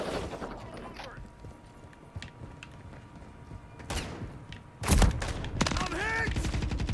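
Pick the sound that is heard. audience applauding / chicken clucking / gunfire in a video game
gunfire in a video game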